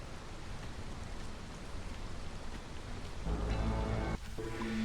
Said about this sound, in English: We're just about to come out of the storm.